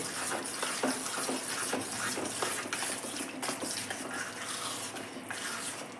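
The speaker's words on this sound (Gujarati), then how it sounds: "આવી રીતે આપણે પાણી નાખવાનું છે અને એક જ સાઈડમાં આપણે આને હલાવવાનું છે" Water is poured into semolina appam batter and stirred in one direction, giving a steady wet sloshing and scraping of the spoon that stays close and moderately loud, with no talk.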